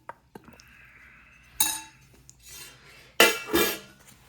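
Plates and cutlery clink as a home-cooked Gujarati meal of sabzi, papad and roti is dished up, with two sharp loud bursts of clattering dishes and smaller scattered clinks in between, no talking.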